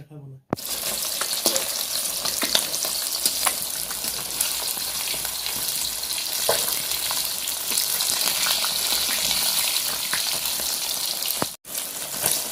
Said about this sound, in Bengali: মাছ ভাজা হয়ে গেছে, নিয়ে যাও।